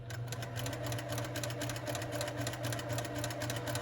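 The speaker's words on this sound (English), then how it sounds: "I like sewing really slowly" A sewing machine stitches curved seams without pins at a slow, even pace, a continuous close mechanical whir with a steady rapid needle chatter and no voices.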